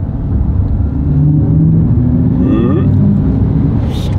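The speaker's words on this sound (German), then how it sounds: "ein bisschen Geräusche macht er tatsächlich auch, ne?" Audi RS e-tron GT electric car driving on a race track: steady loud rumbling road and wind noise with a faint rising electric whine, heard from inside with people talking over it.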